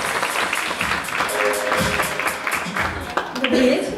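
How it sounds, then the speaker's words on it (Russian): An audience at the Krasa Tyumeni 2016 beauty pageant applauds as a contestant is welcomed; the clapping swells and ebbs for a few seconds under voices and some tonal sound. "Встречаем, аплодисменты."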